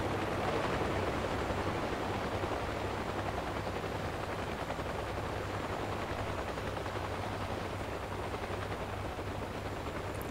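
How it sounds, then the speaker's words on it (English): Helicopter in the flight game Gunship III with an A-1 Skyraider, a steady dense roar of rotor and engine noise mixed with rattling gunfire-like bursts, loud and continuous throughout with no talk. "We got a little bit of helicopters here."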